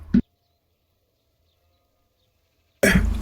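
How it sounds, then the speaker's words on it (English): A single loud, abrupt sneeze bursts out near the end after a long near-silent pause, preceded at the very start by a brief throat sound, all close to the microphone. "Sneeze coming."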